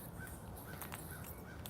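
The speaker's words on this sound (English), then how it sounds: "I think that's a crow." A crow cawing outdoors during a morning walk, a few short faint calls spaced apart against steady background noise.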